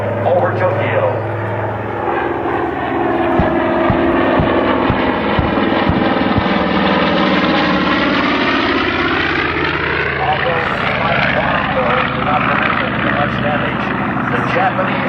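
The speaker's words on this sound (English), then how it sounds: "the mighty B-17 Flying Fortress, being escorted by the P-38 Lightnings and the P-51" A B-17 Flying Fortress bomber flies past at the Edwards AFB air show with escorting P-38 Lightning and P-51 fighters. Their loud, droning propeller engines sweep down in pitch as they pass, while announcer talk runs over the roar.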